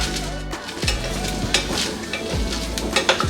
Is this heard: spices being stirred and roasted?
yes